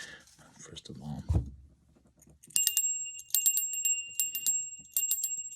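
A small bell rings in bright repeated strikes with a lingering high tone, following a stretch of quiet speech.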